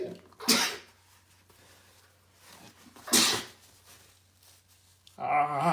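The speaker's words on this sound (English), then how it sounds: "I hate sneezing so much" Two sharp sneezes a few seconds apart, close and loud, followed by a brief voice at the end.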